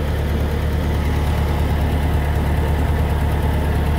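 A 1956 Massey Ferguson TO35 tractor engine, started with ether after a frozen fuel line, idles steadily up close, a loud, even low rumble with a faint knocking texture throughout and no talk.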